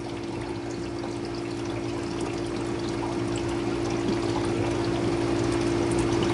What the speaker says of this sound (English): I have my container of tinted water, which is just boiled tea that I've let cool down, and then I pour it into the aquarium.